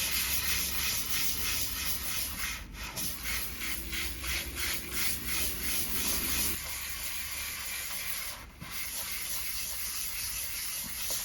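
A meat grinder knife rubbed back and forth on 1000-grit sandpaper, a continuous rhythmic gritty scraping that runs close and steady, briefly pausing and shifting in tone partway through.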